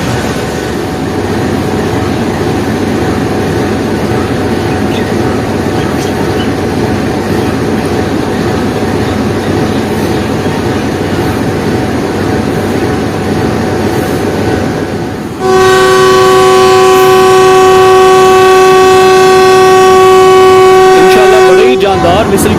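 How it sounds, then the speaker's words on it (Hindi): Locomotive 4565 GE20 hauling the Safari Express at Golra Sharif after rain, a long loud steady horn blast over rumbling train noise, preceded by a stretch of rolling railway din with people talking. "4565 G20 लेकर जाएगा हमारी सफारी एक्सप्रेस"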